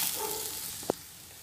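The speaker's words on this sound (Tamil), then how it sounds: "இப்போ வெங்காயம் நல்லா வதங்கிடுச்சு." Chopped onions sauté quietly in a pan for tomato chutney, giving off a soft continuous sizzle with one brief clink partway through.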